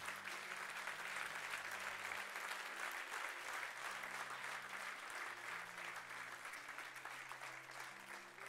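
A church congregation applauds steadily in a dense, sustained wash of clapping that fills the room, with a low tonal hum running underneath.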